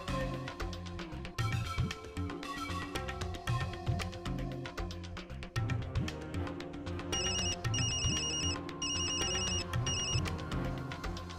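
A telephone rings repeatedly in short electronic bursts, layered over loud dramatic background music that continues throughout.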